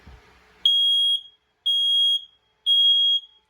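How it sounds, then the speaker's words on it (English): A fire alarm system's smoke alarm sounding during a test, three loud, piercing half-second beeps at an even one-second rhythm, close and alone. "we just have this smoke alarm"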